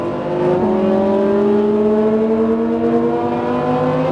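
A Lamborghini Huracan STO accelerates hard on a track, its engine note climbing loud and close before dropping sharply at one gear shift and rising again.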